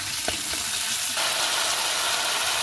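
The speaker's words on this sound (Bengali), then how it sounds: "এবং টমেটোটাও কিন্তু আমি খুব সুন্দরভাবে মশলাটার সাথে ভেজে নেব।" Chopped tomato fries with salt and spices in a pan, giving a loud, dense, continuous sizzle with a few soft stirring scrapes early on.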